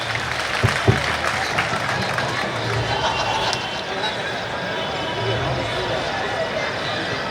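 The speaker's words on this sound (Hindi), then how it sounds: "तो तालियां जरा एक बार पुनः बजा दीजिएगा" Audience applause at a Hindi kavi sammelan (poetry gathering) in Ratlam, a broad, steady wash of clapping that runs throughout, with a few louder claps near the start and some murmuring and voices mixed in.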